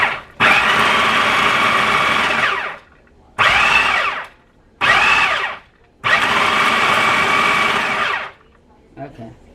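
Food processor pulsing pesto of chopped greens, Parmesan and olive oil in a kitchen: four loud whirring bursts of a few seconds each, split by brief pauses.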